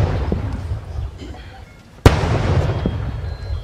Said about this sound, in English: was honored with an 11-gun salute as a procedure for official burial